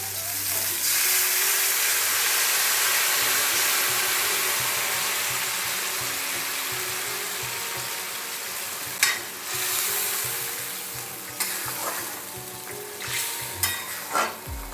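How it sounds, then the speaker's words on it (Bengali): Hot water poured into a cooking pot already holding salt and turmeric for an East Bengal-style dish gives a loud, steady hiss and sizzle that slowly eases, with a few sharp clinks near the end. "এবার আমি গরম জল দিয়ে দিচ্ছি।"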